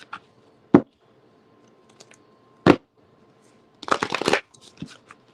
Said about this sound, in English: let's shuffle these up real quick